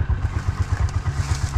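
A motorcycle engine runs close by with a steady low, pulsing throb and a light rattle, with no voices over it.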